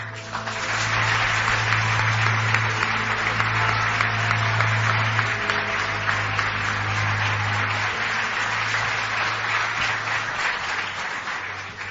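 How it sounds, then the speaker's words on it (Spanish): A studio or live audience applauds steadily for a guest arriving at a radio programme, continuous clapping over a low hum, fading slightly near the end. "Y pido un aplauso para Jesús, que ya se acerca por aquí."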